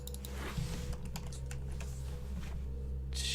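Keyboard typing by someone wearing gauntlets, a quick irregular run of clacking keystrokes over a low background hum, close and fairly faint, with no talk.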